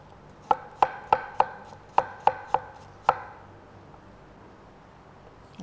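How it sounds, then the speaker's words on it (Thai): A knife chops an apple into small pieces on a board: eight sharp close taps in an uneven rhythm, then quiet, with no speech. "หั่นลงไปเลยแอปเปิ้ล"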